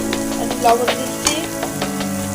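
Pieces of fish fry in oil in a pan with a steady sizzle, broken by scraping stirs and clinks from a utensil.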